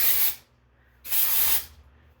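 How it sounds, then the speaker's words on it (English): Two short bursts of dry shampoo aerosol sprayed onto hair, each a loud broadband hiss lasting about half a second, separated by a brief pause. "take your dry shampoo, raise your hair up a little bit, and spray that"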